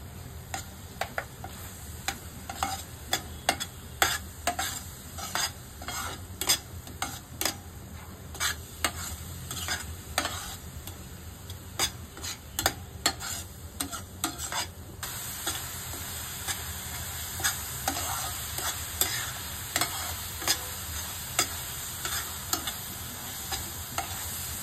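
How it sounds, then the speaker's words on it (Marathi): A spoon stirs thick mango coconut barfi mixture in a pan, scraping steadily with a soft sizzle and repeated ticking strokes throughout, close and without talk. "असं आपण आता ढवळतच राहूया आणि घट्ट याचा गोळा झाला पाहिजे"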